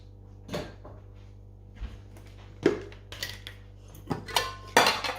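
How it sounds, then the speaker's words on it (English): A lid set onto a cooking pot of Hyderabadi khichdi in a home kitchen, a few sharp metallic clinks and clatters spaced over quiet moments, close and fairly soft. "And then this can put the lid on."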